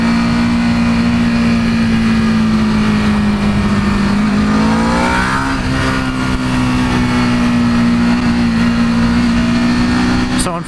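EBR 1190RX sport motorcycle engine while riding: a loud, sustained engine drone with a steady pitch that dips slightly midway, then holds, under rushing wind noise.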